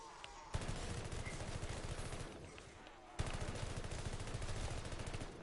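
Rapid assault rifle fire in the video game Call of Duty Vanguard, two sustained automatic bursts with a short pause between them, loud and close.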